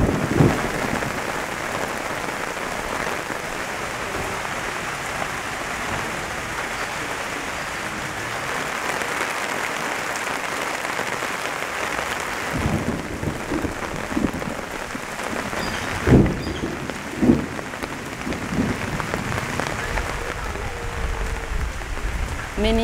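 Steady rain falls in a flooded village in Old Fangak, South Sudan, a continuous hiss of drops on surfaces with a few sharper taps and spatters near the end.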